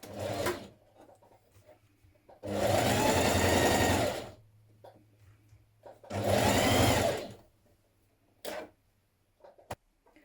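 A sewing machine stitches a line of understitching around a facing on a dress, running in two sustained bursts of about one and a half seconds each, with quiet handling and a few faint clicks between them.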